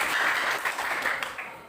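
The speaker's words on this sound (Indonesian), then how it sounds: "Oke, terima kasih tepuk tangan untuk" Short burst of classroom applause from students in an Indonesian teacher-training lesson, dense clapping rising quickly then thinning toward the end, fairly close and alone.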